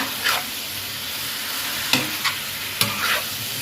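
King oyster mushrooms stir-fried in a pan, a continuous sizzle broken by several sharp scrapes and clacks of a utensil tossing the pieces, close and fairly loud, with no voices.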